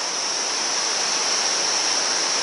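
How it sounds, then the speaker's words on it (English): A small waterfall on a trekking trail in Nepal gives off a steady, close, full rushing roar of falling water that holds an even level throughout, with no voices. "look at this waterfall here. Small waterfall."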